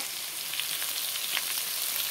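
Fish sizzles in hot oil in a pan alongside potatoes and ridge gourd, giving a steady, close hiss of frying with faint crackles and pops throughout.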